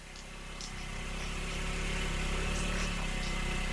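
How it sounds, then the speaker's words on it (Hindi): A vehicle engine arriving, a steady low mid-pitched hum that swells gradually as it draws closer, heard alone without voices. "मेरे बेटे की गाड़ी की आवाज सुनाई दे रही है,"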